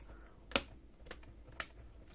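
A replacement keyboard on an ASUS X59GL laptop is pressed down into place, giving three sharp plastic clicks spaced roughly half a second apart in a quiet room.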